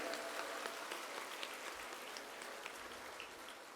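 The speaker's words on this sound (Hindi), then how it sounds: "सभी एक दूसरे के उत्साहवर्धन में तालियों की गड़गड़ाहट कर रहे हैं।" Audience applause at a spiritual satsang gathering, a soft steady wash of many hands clapping together, faint and distant, continuing evenly without voices.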